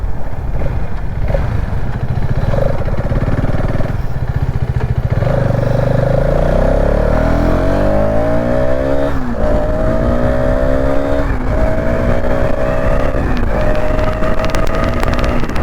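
A TVS Xtreme 250R motorcycle being ridden, its engine droning loud and close under heavy wind rumble, pitch climbing through the gears with audible shifts and renewed rises.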